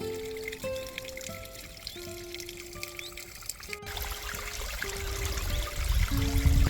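Spring water at the Babulka source in Ukraine trickles past a trough and runs off as a small stream along travertine deposits, a soft, steady babble that grows slightly fuller and louder toward the end, with sustained musical tones alongside.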